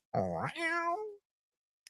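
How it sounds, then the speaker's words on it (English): A house cat meows after entering a room, one loud close drawn-out meow rising then falling, followed by silence and a tiny click at the end. "My cat literally just opened the door and came in here."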